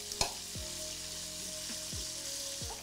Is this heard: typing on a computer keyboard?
no